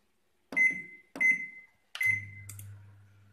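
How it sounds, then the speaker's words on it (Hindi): A microwave oven being set to preheat in convection mode at 180 degrees gives three short electronic beeps, evenly spaced and close by, followed by a low steady hum as it starts running. "इसके लिए पहले हम माइक्रोवेव को प्री हीट करेंगे।"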